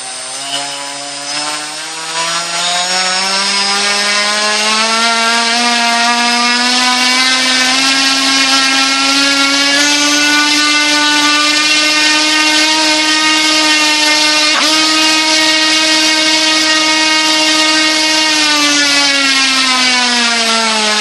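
Turnigy Multistar 350 QX quadcopter with upgraded motors running steadily at close range, a loud continuous whine with rising pitch over the first seconds, then smooth and even, no talking.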